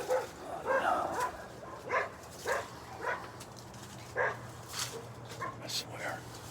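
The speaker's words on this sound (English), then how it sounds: "this dog just barks. And barks and barks and barks." A dog barks repeatedly outdoors along a path with grapevines and trees, a steady series of mid-distance bow-wow barks spaced roughly every half second to second, with faint whimpering between them.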